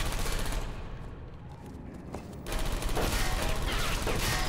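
Turrets in the video game Portal 2 firing in loud continuous bursts of rapid gunfire, which ease briefly mid-way and then return at full intensity.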